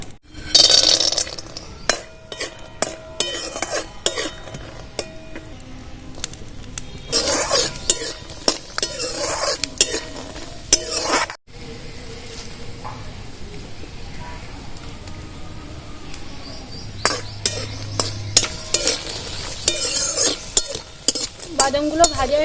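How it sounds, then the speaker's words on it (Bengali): Raw peanuts fry in mustard oil in a wok while being stirred, with repeated scraping and clinking of a metal spatula over a soft sizzle, broken by a brief pause midway. "বন্ধুরা আমি কটা কাঁচা বাদাম নিয়েছি এবার ভেজে নেবো"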